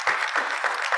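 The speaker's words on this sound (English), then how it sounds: "Please, round of applause" A crowd claps together in a burst of steady, close applause at a medical symposium, with no voices over it.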